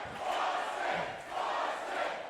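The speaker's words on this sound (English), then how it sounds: "Crowd chanting Boston, Boston." At a team combat fight event, an arena crowd chants "Boston" in a rising and falling rhythm, two swells of massed voices loud and steady throughout.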